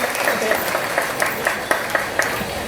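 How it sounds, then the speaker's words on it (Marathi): An audience at an Indurikar Maharaj kirtan on Ashadhi Ekadashi claps in quick, rhythmic bursts, and a voice can be heard alongside the applause. "टाळ्या वाजवा एकदा सर्वांना"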